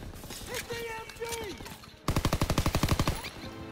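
A World War II machine gun rattles in Call of Duty WWII, a fast burst of about a dozen loud, evenly spaced shots near the end after shouted battlefield voices and a whistling sound.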